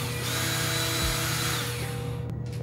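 A cordless power drill runs steadily while backing out the two screws holding a computer power supply hood, a loud continuous whine with a brief dip partway before it stops near the end.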